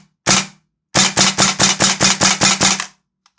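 A Tokyo Marui Saiga-12K airsoft gas blowback shotgun fires one loud, sharp shot, then after a pause nine more in quick succession as the magazine is emptied. Each report is close, with a snappy crack.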